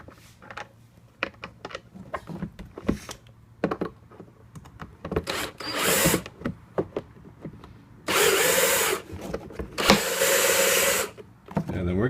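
Power drill driving screws into a ride-on toy fire engine during assembly, with several short whirring bursts, the longest two near the end, between clicks and handling noises; a voice speaks briefly in between.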